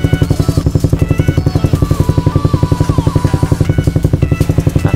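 A Honda CB 150 R motorcycle fitted with a 3 Tech Racing Evolution three-sound exhaust set to racing mode idles loudly and close, with a fast, even, throbbing beat and a few brief tonal whines above it.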